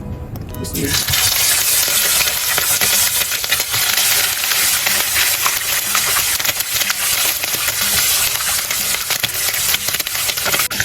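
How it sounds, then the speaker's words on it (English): Loud, continuous sizzling of chicken frying in hot oil, crackling and spitting steadily up close. "So now I'm gonna start fry my chicken."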